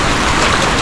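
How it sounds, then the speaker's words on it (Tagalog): Heavy rain pours down in a dense, loud, continuous hiss close by, with no gaps. "Lakas na ng ulan!"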